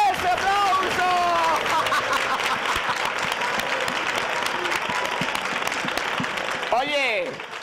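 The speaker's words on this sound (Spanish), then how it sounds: "¡Ese aplauso!" A television studio audience bursts into loud, sustained applause on a Spanish entertainment show, thick continuous clapping with cheering and a whistle near the end.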